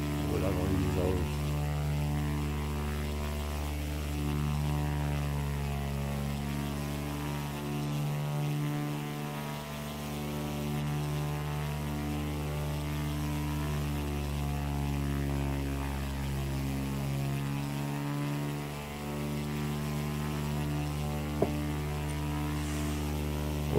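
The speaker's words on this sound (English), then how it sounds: "Plane climbing too much." Steady drone of a propeller airplane engine in flight in a flight simulator game, a continuous buzzing hum with slight dips in level, close and loud throughout.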